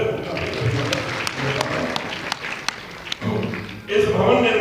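An audience at a religious Gita discourse gathering applauds in a moderate, steady patter of claps for several seconds, with a voice talking over it and clearer speech at the end.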